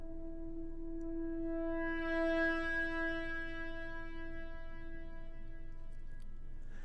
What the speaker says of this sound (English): a synth from Atom, the Audio Modern library.